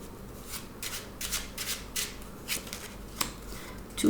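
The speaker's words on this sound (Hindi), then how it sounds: "two cards flipped" Tarot cards being shuffled and flipped at close range, with a run of quick papery riffles, rubs and snaps spaced across the stretch and no talk.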